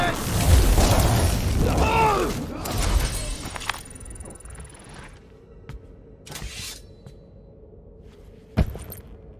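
Bomb blasts thrown by Rocket during combat in the Guardians of the Galaxy video game: heavy booming explosions with debris rattle at the start, then sparser bursts and clanks, with a sharp pop near the end.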